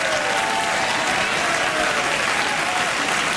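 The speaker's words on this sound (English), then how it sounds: "I don't want your pity clap." A late-night talk show studio audience claps in a steady, loud, unbroken wash of applause during a comedian's monologue, with no gaps.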